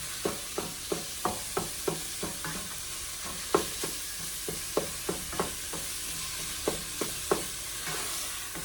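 Ground meat browning in a pan for pasta sauce, a soft steady sizzle punctuated by a regular series of spatula scrapes and taps.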